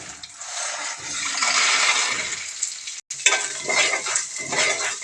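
Cumin seeds, urad dal and peanuts fry in hot oil with a steady, close sizzle and crackle, briefly broken by a short gap before the frying noise resumes.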